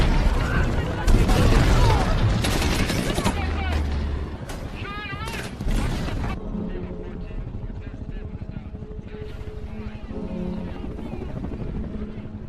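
Rescue troops open fire on enemies in a war film set in Afghanistan, with dense bursts of loud gunfire and blasts over the first six seconds, then a quieter stretch of low rumble and scattered film sound.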